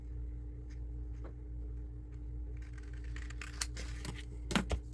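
Scissors snip and trim a piece of paper for a handmade storybook-style journal page, a few close crisp cuts over a low steady rumble, with no talking.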